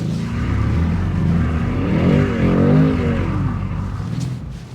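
A Mercedes-AMG C63 S pulls away on a snowy road, its engine note rising and swelling as it accelerates. The engine stays loud and continuous from inside the car, with no talking.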